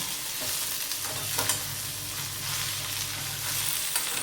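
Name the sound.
okra frying and being stirred in a pan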